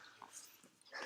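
A dog heard faintly indoors, giving soft snuffling and small grunting noises in quick irregular bursts, low and close to a quiet background.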